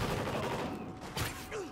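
Gunfire from a sniper rifle in the Chief Keef Bang Bang video game, a few sharp cracks with one louder shot near the middle, set against a dense, noisy game mix.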